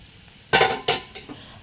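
Dal in a frying pan with spoonfuls of sambar powder and other spice powders being mixed in, heard as two loud scraping, clinking strokes of a spoon against the pan followed by a softer knock, with no voices.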